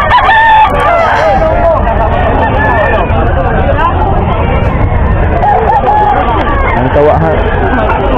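A rooster crows at a busy pet and farm animal market in Bocaue, loud and close, rising over dense crowd babble as people talk nearby.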